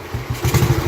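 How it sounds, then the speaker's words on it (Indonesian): Engine of a classic 1948 Royal Enfield motorcycle firing up, with a loud, rhythmic low thumping that builds into a steady chugging beat. "di akhir video kita tes nyala mesin"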